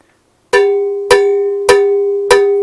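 Four evenly spaced strikes of a stick on a cowbell, each a bright metallic clank with a ringing tone that decays slowly, heard alone and close.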